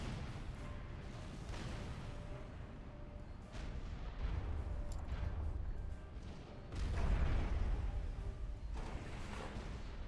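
Artillery in Supreme Commander 2 rumbles in repeated heavy booms over a dense, noisy battle din, with deeper blasts building toward the end.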